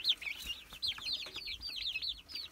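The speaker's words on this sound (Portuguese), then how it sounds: "Voa, voa, pintinho." Young chicks peep close by in a rapid string of high, shrill chirps with no voices over them.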